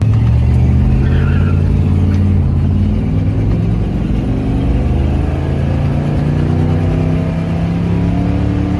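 A Nissan 350Z with an old, rough-running engine drones loudly up close, its pitch climbing gradually in a long, steady rev with a harsh, strained tone.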